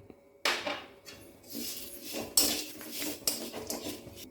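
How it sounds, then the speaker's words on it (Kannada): Toor dal lentils tipped into a pan while dry roasting curry leaves and spices for sambar powder, a few close clattering and scraping bursts of grains and utensil against metal. "ನೋಡಿ ತೊಗರಿಬೇಳೆ ಹಾಕ್ತಾ ಹಾಕ್ತಾಯಿದ್ದೀನಿ"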